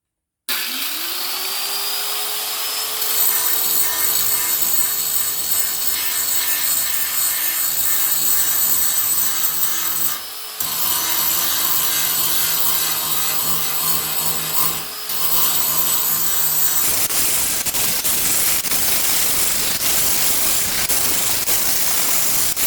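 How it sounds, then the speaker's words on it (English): Angle grinder working the rusty, pitted end of a car's rocker panel on a 1969 project car, a steady loud abrasive whine that runs continuously with two brief dips, no voices. "Let's hit this with the grinder a little bit and see what happens."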